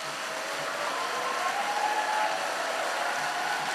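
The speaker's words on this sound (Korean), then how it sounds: "목사님 나올 때 큰 박수 부탁드리겠습니다." A church summer camp audience applauding a pastor as he comes forward, a steady, even wash of distant clapping with no distinct individual claps.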